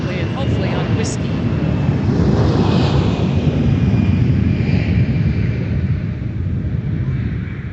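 The airliner nicknamed "Big Sexy" taxiing at MSP airport, a loud, continuous low engine roar and rumble, steady and close, mixed with wind buffeting on the microphone.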